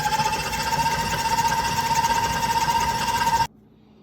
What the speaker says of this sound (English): And you're going to beat this together until it's light and fluffy.